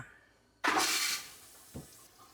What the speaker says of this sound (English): we got clear water going through the toilet